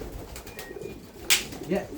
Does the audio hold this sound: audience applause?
no